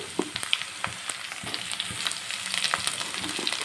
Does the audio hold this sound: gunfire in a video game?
no